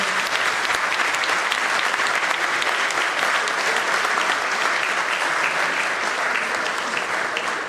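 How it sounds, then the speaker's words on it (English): Loud, sustained applause from the audience at an HR meetup after an interview session. Many hands clap in a thick, even roar that stays strong for the whole stretch. "May I have a round of applause once again?"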